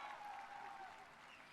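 One person claps steadily for students at a yoga training session at Symbiosis University in Pune, a continuous patter of hand claps filling the moment with no talk over it.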